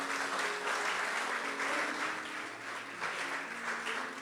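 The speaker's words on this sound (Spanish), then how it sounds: "Dale el aplauso al Señor Jesús." Church congregation applauding during a sermon, a steady, full roar of clapping that carries evenly throughout with a faint murmur of voices underneath.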